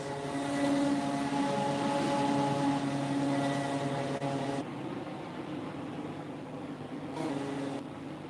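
A Class 321 train motor in the Roblox game Stepford County Railway drones with layered tonal hums that cut off abruptly midway, leaving a softer whine before the hum briefly returns.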